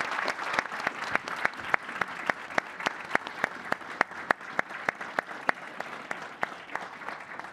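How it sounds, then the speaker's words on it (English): Audience applause for Prime Minister Starmer at a public leaders' discussion, a thin, steady patter of individual claps from a modest crowd, clear and continuous. "let's give him a round of applause and allow him to leave"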